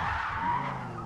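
A race car spinning out in the Forza Motorsport racing game, driven with a racing wheel, gives a loud continuous tire squeal and skid over engine noise.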